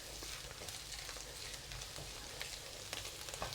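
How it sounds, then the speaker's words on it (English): Salted radish and ginger fry in a hot pan with a steady, dense sizzle and crackle, broken by small pops, close and continuous with no talking. "I've been frying this for about 3 minutes."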